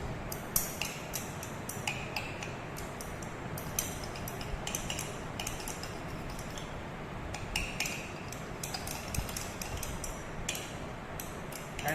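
Casein being stirred in ethanol in laboratory glassware, a continuous stream of light ticks and glassy clinks against a steady background hiss, close and fairly quiet, no talking.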